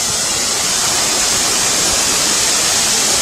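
Constant loud hiss of Jagir waterfall in Banyuwangi, East Java, a dense unbroken rush of falling water filling the whole clip.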